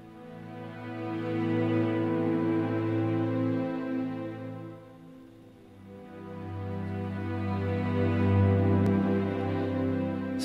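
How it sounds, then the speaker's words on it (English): Lumina Symphobia muted sordino string ensemble plays warm, sustained chords that swell and fade. The harmony shifts gently by single steps, with no other instruments or voices. "where you have these wonderful lumina symphobian sordinos"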